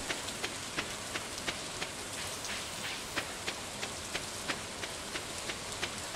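Steady rain falls in the farming video game Stardew Valley, a soft continuous patter with evenly spaced little ticks running the whole time at low volume, no voices.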